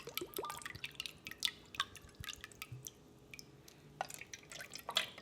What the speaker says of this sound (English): adding 1/3 cup of our liquid aminos, or your soy sauce